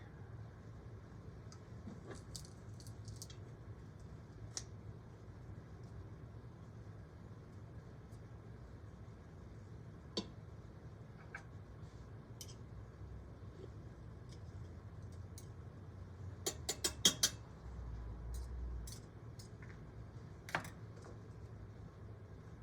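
A knife mincing garlic cloves on a cutting board for Zuppa Toscana gives faint, scattered light taps, with a quick flurry of chops near the end over a low background hum.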